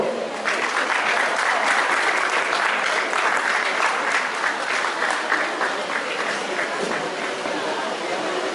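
Steady, dense applause from a large audience at a reunion gathering, continuous and fairly loud throughout with no breaks.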